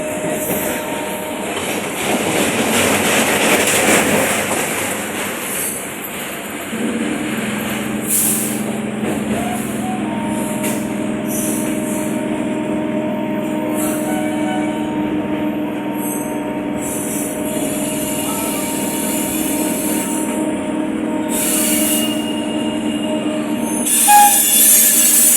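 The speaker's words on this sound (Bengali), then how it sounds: "এর ওপর দিয়ে মেট্রো যাচ্ছে।" A Kolkata metro train passes overhead above the circular railway with loud, sustained wheel squealing and rumbling rail noise, the shrill screech rising and falling throughout and continuing close and loud.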